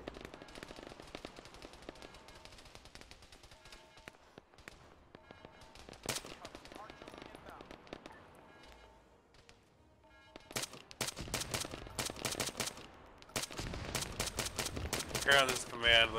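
Rapid automatic gunfire and scattered shots in an Arma military game session, sparse at first then building into dense, loud bursts of machine-gun fire with a few heavier reports, with voices talking over it.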